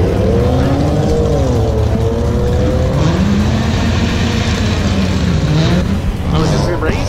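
A Mazda Miata races another car at a street-speed event, steady engine drone with rising and falling pitch sweeps as the cars pass, loud and continuous, with people talking over it.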